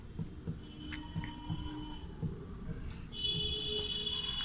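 Pen writing answers by hand during a Sanskrit lesson, close, soft scratchy strokes in short bursts over a low steady hum, with no clear speech.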